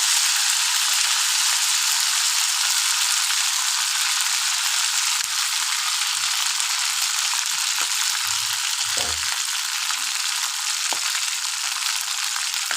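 Cinnamon and cracked cardamom frying in hot oil for a Bengali chicken curry, a steady bright sizzle throughout with occasional soft clinks and stirring bumps.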